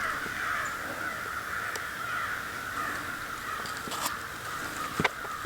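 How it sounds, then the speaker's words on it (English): A group of crows gathered over a house keeps up a continuous chorus of overlapping caws outdoors in autumn, moderately loud against a constant background hiss, with a few sharper calls toward the end. "Lots of crows just over my brother Steve's house."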